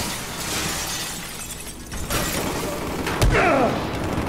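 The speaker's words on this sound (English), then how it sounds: "I'm just smashing windows" Windows smashed in the video game Battlefield 4: one loud, sharp glass crash near the end over a steady wash of game noise, with a fainter impact shortly before it.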